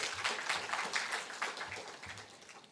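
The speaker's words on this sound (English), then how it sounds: "So a round of applause for 6 Senses." An audience at an investment migration symposium claps in a sustained round of applause, a dense, even patter of many hands that slowly fades.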